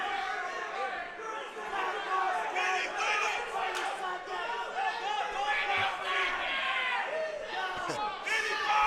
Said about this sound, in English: Crowd absolutely into this. They are going crazy.